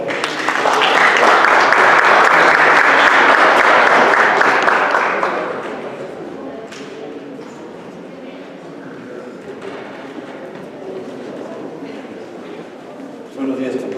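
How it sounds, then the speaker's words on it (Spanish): Loud, dense applause from a congress audience welcoming a speaker fills the first five seconds, then fades into a quieter murmur of scattered clapping and room noise. "Recibámoslos con un fuerte aplauso"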